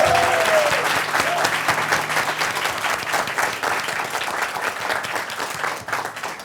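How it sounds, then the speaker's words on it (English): An audience at a startup pitch event gives Professor Lang a round of applause, sustained, dense clapping with sharp individual claps standing out, starting just as a voice finishes and gradually tapering toward the end. "So can we give him a round of applause?"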